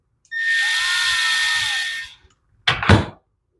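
An Echo leaf blower's small engine runs after a carburetor rebuild, a steady close whine for about two seconds that cuts off, followed by a couple of sharp knocks.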